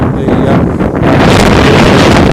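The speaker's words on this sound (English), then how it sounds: "Sorry about the wind here." Loud, blustery wind buffets the microphone throughout, a dense roaring rumble that strengthens midway and never lets up, recorded outdoors beside a Saab 900 Turbo T16S Aero convertible.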